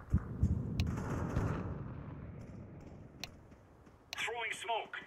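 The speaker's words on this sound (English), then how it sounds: "Deploying flashbang." A flashbang grenade in the Counter-Strike 2 video game: a sharp bang and crackling rumble, then quieter pops and a ringing tone near the end, with a voice talking over parts of it.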